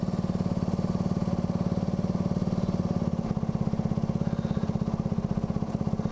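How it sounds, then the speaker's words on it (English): A small engine runs steadily at idle with the choke on, its rumble dropping to a lower, slower idle partway through and then holding there, close and unbroken. "Oh, the choke's letting me running a lower idle."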